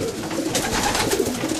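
A racing pigeon coos softly inside a loft, a low throaty murmur heard close up against a faint rustling background, with no talking.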